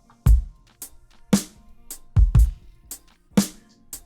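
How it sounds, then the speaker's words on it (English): A basic acoustic drum kit pattern of kick, snare and hi-hat with some toms, played in a simple groove with strong low thumps and bright crisp hits, close and alone. "We have acoustic drums, and they sound kind of like this."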